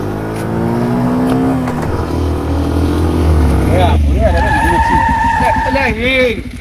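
A motorbike draws near and revs with a rough, rising engine drone, loud and close, while people shout and talk over it in a comic rural scene.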